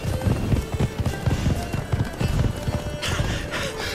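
A horse in The Witcher 3: Blood and Wine gallops in quick, rhythmic, heavy hoofbeats close by, with no voices over it.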